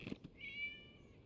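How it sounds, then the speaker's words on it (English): A cat meows in the video game Genshin Impact: a single short, faint mew following a couple of soft taps, with no talk. "It was just a cat."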